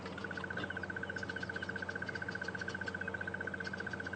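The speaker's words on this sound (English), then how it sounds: "you might be picking up the bird behind me, which is the crested barbet" Crested barbet calling at Djuma Game Reserve on a morning safari drive, a long sustained trill of rapid, evenly spaced notes running steadily throughout, moderately near, with faint background birds and insects.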